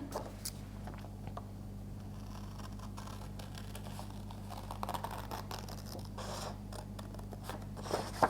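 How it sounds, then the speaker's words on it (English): Scissors cutting through card while a hug card is trimmed to size, a run of close, crisp snips and scratchy blade strokes with small rustles of paper, alone without speech. "So I'm just going to cut around to get rid of the half that I don't need"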